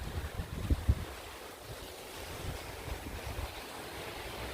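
Strong Hurricane Dorian wind roars steadily in Orlando, a broad outdoor rush with a few louder gusts at the start before settling into a constant blow.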